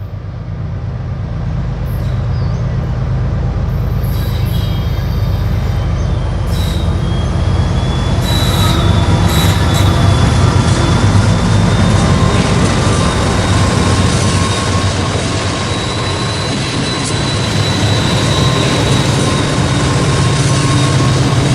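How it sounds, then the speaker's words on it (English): A train rumbles steadily past the Chillicothe depot at close range, wheels squealing and rail noise droning continuously, with occasional higher metallic screeches. "let's watch some trains pass by this once well-known spot."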